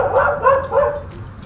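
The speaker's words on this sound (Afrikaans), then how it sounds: "Die hond wat julle nou net gehoor blaf het, is my hond" A Labrador gives a quick run of three or four close, moderately loud barks over about a second and a half, with no talk.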